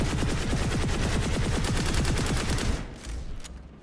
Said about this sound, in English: this time we're going to fire again, but I'm going to pull down on the mouse slowly to compensate for the recoil upwards